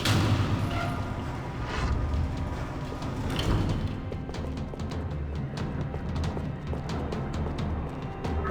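Gunfire echoing through a parking lot in Max Payne 3, dense rattling shots and booms layered over a loud continuous battle din that runs steadily throughout.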